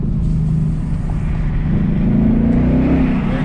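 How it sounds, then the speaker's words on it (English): A Ford Roush Mustang with a manual gearbox and valved exhaust set to track mode rumbles deeply, its low throbbing exhaust note swelling slightly as the engine revs, close and steady with no talk. "sounds great because you have that valved exhaust and you have the on-the-fly exhaust modes"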